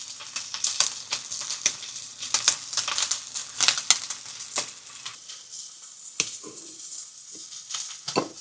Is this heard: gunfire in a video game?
no